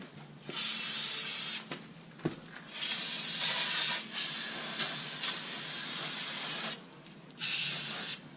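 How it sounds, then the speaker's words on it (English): Bursts of compressed air hiss sharply from a blowgun cleaning sticking rear brakes on a GMC Sierra, several long sprays separated by short pauses, loud and close. "Now I'll get a blowgun, spray it down first."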